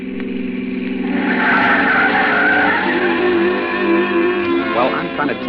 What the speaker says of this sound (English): It's an old car, pre-war. It sounded like it was splitting at the seams.